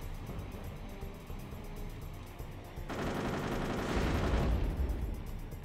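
Rapid weapon fire with Tesla ammo in the aircraft combat game Airfix Dogfighter, a steady mechanical rattle under engine drone that swells into a louder, denser burst of hits near the end.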